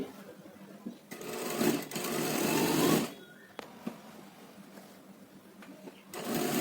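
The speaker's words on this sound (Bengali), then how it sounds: "যেহেতু চুড়িদারটা ফিটিংস তাই ডবল সেলাই দিয়ে নিচ্ছি" A sewing machine double-stitches a fitted churidar, running in a loud, close, rapid whirring burst of about two seconds, pausing amid quiet handling noises, then starting up again at the end.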